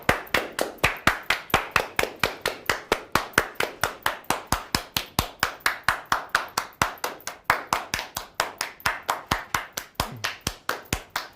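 A single pair of hands claps steadily and quickly, about four claps per second, loud and close, with each sharp crack sounding alone and no talking.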